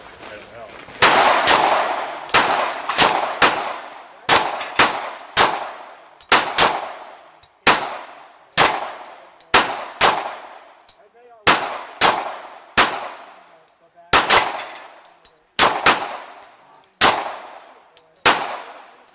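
Rifle shots at a plate-shooting match ring out on steel targets, about twenty sharp loud cracks with clanging metallic decay, fired in an uneven rapid sequence.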